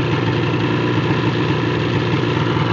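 A 2007 Ski-doo snowmobile engine idles steadily and fairly loudly, with a low, even throbbing rumble that does not change across the short stretch.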